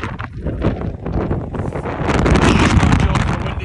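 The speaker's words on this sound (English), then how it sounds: "It's quite windy" Strong wind buffets the microphone in loud, rumbling gusts that grow heavier toward the end.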